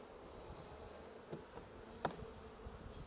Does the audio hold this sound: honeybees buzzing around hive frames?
yes